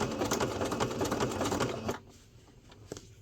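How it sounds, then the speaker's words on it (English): A sewing machine stitching patches onto a blue jean dress runs in a steady, close, rapid mechanical patter for about two seconds, then stops, leaving quiet room sound with a faint tap. "I am just sewing on my blue jean dress here today"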